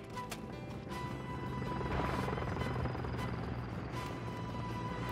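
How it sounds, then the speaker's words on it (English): A helicopter in Call of Duty Modern Warfare II drones steadily throughout as a continuous rotor whir in the middle distance, mixed with faint game noise and a few sharp impacts. "They're actually calling the helicopter here."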